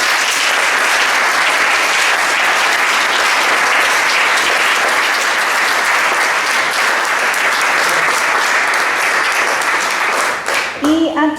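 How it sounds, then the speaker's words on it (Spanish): Applause from an audience after a university science talk, a loud, dense and continuous wash of clapping that holds steady for about ten seconds before thinning out, with a voice starting up near the end. "Le podemos dar un gran aplauso."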